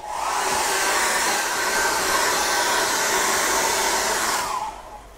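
A hair dryer blows steadily and loudly over wet acrylic paint on a beginner's night-sky canvas, its broadband whoosh holding for about four and a half seconds before switching off and trailing away, with no talking.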